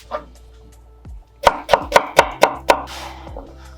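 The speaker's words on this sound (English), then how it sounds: "Start by peeling and finely dicing the mango and transferring it to a bowl." A knife finely dices peeled mango on a chopping board, giving a quick run of about seven crisp, close taps after a couple of softer knocks.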